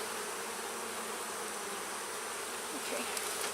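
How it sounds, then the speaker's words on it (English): Dense swarm of honey bees hums steadily around honeycomb during a honey harvest, a continuous close, even drone with no pauses. "look at the amount of bees that is on this. It's like an insane amount of bees."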